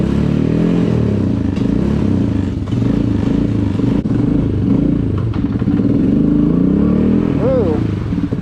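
Suzuki QuadRunner 230 ATV engine on a test ride while still cold, a loud, continuous rumbling motor with clattering and rising revs, heard close up with a person talking over it.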